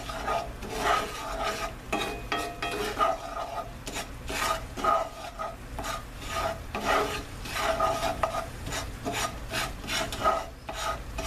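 Creamed chipped beef cooks in a pan under constant stirring, a close, rhythmic scraping and rubbing of a utensil against the pan with soft sizzling beneath. No one speaks.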